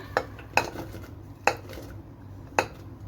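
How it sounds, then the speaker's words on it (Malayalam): Four sharp metallic clinks, spaced irregularly, as two finely chopped onions are added into a pressure cooker, with a faint low hum underneath. "കുക്കറിലേക്ക് ഞാനൊരു രണ്ട് സവോള ചെറുതായിട്ട് അരിഞ്ഞതാണ് അത് ചേർത്ത് കൊടുക്കുവാണ്"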